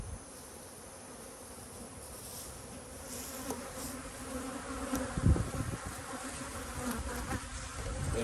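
Honey bees buzz steadily around beehives fed from jars in an apiary, a dense, continuous hum that swells and grows louder toward the end, with no voices.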